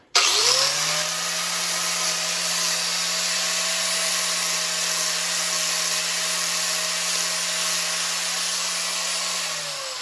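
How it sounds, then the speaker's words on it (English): An electric sander whirs up abruptly on a hammer-marked metal part and runs at a steady high-pitched drone for about ten seconds before easing slightly at the end. "So now what I'll do is I'll take my sander"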